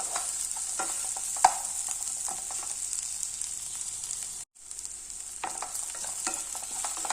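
Half a small bell pepper sautés in a pan with a steady, moderate sizzle broken by occasional stirring scrapes and one brief gap, with no voices.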